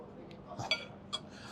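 Knife and fork cut into a medium-rare steak on a plate, giving a few quiet clinks and scrapes of cutlery on china in a near, otherwise calm setting.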